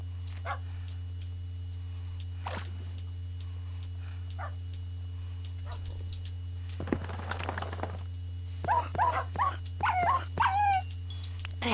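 Dogs in the video game Minecraft give several yips, barks and high whimpers, starting sparse and quiet, then a louder cluster near the end, over a steady low electrical hum.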